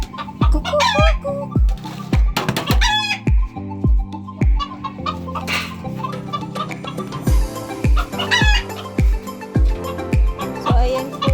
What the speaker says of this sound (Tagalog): So, ayan po ang manok ng aming amo.